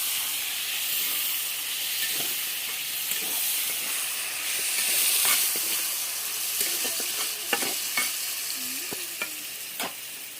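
Garlic, chopped onion and tomato fry in hot oil with a steady, loud sizzling hiss, punctuated by spatula scrapes and stirring clicks throughout, with no talking.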